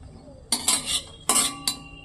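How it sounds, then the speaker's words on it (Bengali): A metal spoon stirs dried red chillies frying in mustard oil in a pan, giving four sharp scraping clinks at an uneven rhythm, close and clear, with no talk. "লঙ্কাগুলো আমি তেলের মধ্যে নাড়াচাড়া করে একটু বেশ কালার করে ভেজে নেব।"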